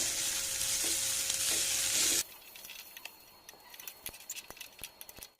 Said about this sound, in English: Now add this flattened rice to this. Mix well.